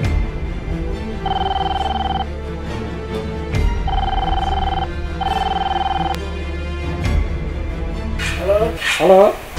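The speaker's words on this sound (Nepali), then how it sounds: "रमेशलाई फोन लगा" A telephone rings in three evenly spaced electronic bursts over steady background music, and a voice follows at the very end.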